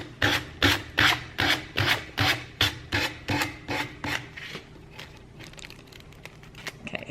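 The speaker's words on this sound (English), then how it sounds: "I'm gonna take my sandpaper and just go right down the edge" Sandpaper rasping down the edge of decoupaged tissue paper, a steady run of about ten loud rhythmic strokes that then soften into fainter, irregular scraping.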